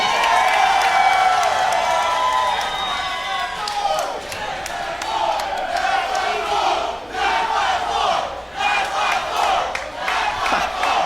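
A wrestling crowd at a CCW Bash at the Brew show cheers and roars steadily in an indoor arena, with bursts of shouting and clapping rising and falling over a dense, continuous wall of noise.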